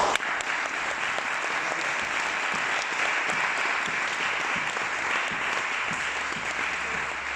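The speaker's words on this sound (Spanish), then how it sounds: "Un aplauso por favor." Steady audience applause closing an academic presentation on time-series distance, a dense, even wash of many hands clapping that holds at constant loudness for the whole stretch without talk over it.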